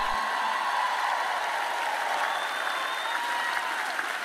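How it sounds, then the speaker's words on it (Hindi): Audience applause at a sermon-style talk on a Bible parable, a dense, continuous wash of clapping from a crowd that carries evenly through the whole stretch without a break and with no voice on top. "और मैं रुकूंगी नहीं जब तक आप तालियां नहीं बजाते क्योंकि वो बहुत अच्छा है"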